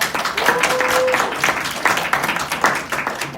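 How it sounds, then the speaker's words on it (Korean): A room full of people claps in uneven bursts, moderately loud, with a faint voice briefly heard near the start. "자 박수 한 번만 더 크게 해주세요"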